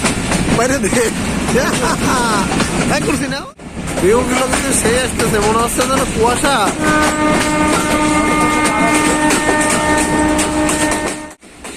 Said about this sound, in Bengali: ট্রেনের এই ঝকঝক শব্দ আমার কাছে কিন্তু অসাধারণ লাগে